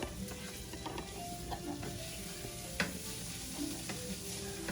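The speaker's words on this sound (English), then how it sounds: "Now I'm just going to use my hand and mix this all together" Meatball mixture being mixed together by hand, giving soft, quiet squishing and stirring sounds with faint clicks over a low room hiss, with no talking.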